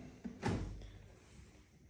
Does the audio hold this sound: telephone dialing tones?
no